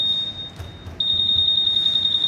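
A Honda ADV 160 ABS scooter's alarm gives a steady high-pitched electronic beep that cuts out briefly and then resumes, continuous and fairly close, with no talk.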